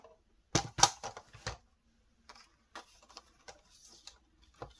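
A hand punch snaps through a slide frame in a few sharp, close clicks, followed by quieter scattered taps.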